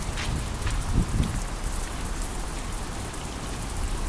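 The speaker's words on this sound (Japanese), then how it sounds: "もうすっごい大雨ですよ。" Very heavy rain pours steadily and loudly in a dense, hissing wash, with a couple of brief low thuds near the start and no voices.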